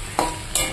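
Vegetable chorchori with coriander leaves being stirred in a pan, two brief scraping strokes against a faint background sizzle, with no voices.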